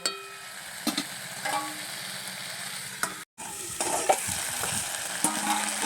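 Pangas fish with salt and turmeric being stir-fried in a pan: soft sizzling with scraping spatula strokes at irregular intervals and a brief drop to near silence midway, no voices.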